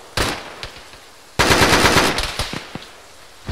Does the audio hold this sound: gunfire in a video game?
yes